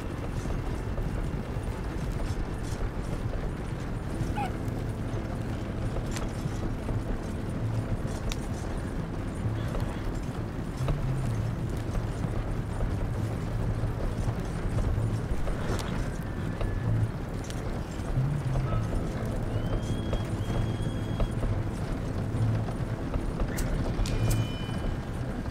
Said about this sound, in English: Alright, come on, horses.